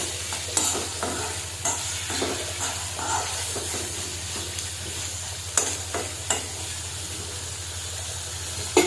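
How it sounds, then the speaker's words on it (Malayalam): Salted egg curry being stirred in a pan: repeated scraping strokes of a spoon against the metal over a steady low sizzle, close and moderately loud, with no voices. "ഉപ്പ് ചേർത്ത് ഇളക്കി യോജിപ്പിക്കാം."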